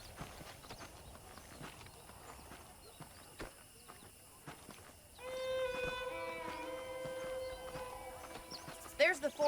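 Horse hooves clip-clopping at a walking pace in the Western video game Red Dead Redemption, a steady rhythmic clatter under background sound, joined midway by a sustained tonal layer and a short burst at the end.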